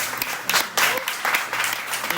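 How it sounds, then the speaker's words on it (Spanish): An audience at a book presentation applauds for Ana, giving steady, close, fairly loud clapping that runs throughout with a few sharper individual claps. "me gustaría un fuerte aplauso para Ana"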